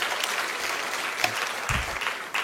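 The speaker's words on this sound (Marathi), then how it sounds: "त्यांचा टाळ्या वाजून कृपया स्वागत करावे।" An audience of notary advocates claps to welcome a guest speaker, steady dense applause close by with a few louder individual claps and a low thump near the end.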